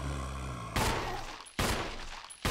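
Two sharp, loud gunshots from a pistol in the original Resident Evil, spaced about a second apart, each cutting through low game music and ringing briefly before fading.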